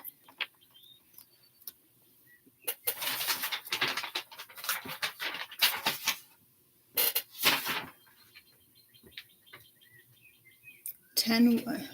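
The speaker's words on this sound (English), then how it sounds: "Who's my sweet chubby bird?" A chubby pet bird chirps in short bursts of high tweets at close range, scattered across the clip between quieter gaps, with someone speaking softly to it at times.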